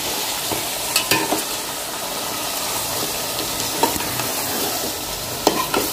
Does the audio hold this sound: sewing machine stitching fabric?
no